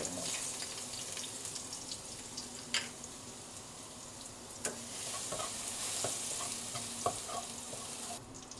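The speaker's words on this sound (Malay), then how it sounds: "minyak dah panas, kita masukkan bawang putih dengan halia" Garlic and ginger dropped into hot oil sizzle and crackle steadily while being stirred, with a few sharp clinks of a utensil against the pan in a home kitchen.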